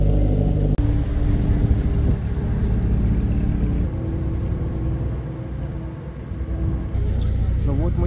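A motorboat cruises across Ha Long Bay in Vietnam, its engine a steady, loud low drone mixed with water wash, dipping slightly midway before returning to full strength.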